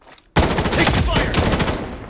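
Rapid automatic gunfire in the Project Bloodstrike video game, a loud continuous burst of shots that starts abruptly after a moment of near silence and keeps going to the end.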